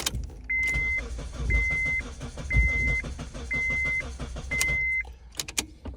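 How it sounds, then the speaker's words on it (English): A 2002–2006 Honda CR-V engine cranks over without starting: repeated starter whirring in short bursts, with intermittent electronic warning tones between them, close by. "And I'm cranking it over."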